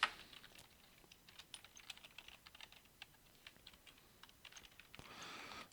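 Rapid, close clicking of a computer keyboard as an equation is typed into the Desmos graphing calculator, with irregular bursts of keystrokes, soft and steady, and no talk.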